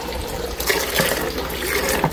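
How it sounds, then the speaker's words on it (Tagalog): A faucet runs steadily over a fish-keeping setup with balloon mollies, producing a continuous close wash of splashing water for about two seconds with no talking. "stop ko lang tong gripo natin"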